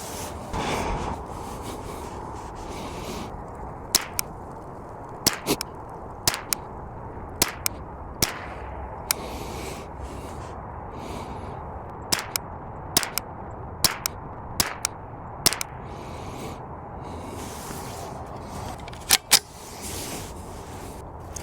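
A Ruger 10-22 rifle fires about fifteen sharp, crisp shots, spaced irregularly a second or two apart and sometimes in quick pairs, over a quiet outdoor background.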